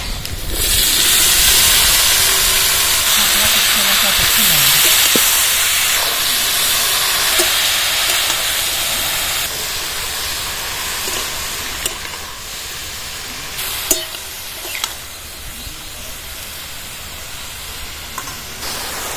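Water lily stems tipped into a hot pan with green chillies, salt and turmeric set off a loud, steady sizzle and steamy hiss that dominates throughout, easing slightly toward the end with a few small clinks.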